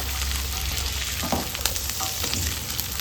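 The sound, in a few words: cluster beans frying in ghee on low flame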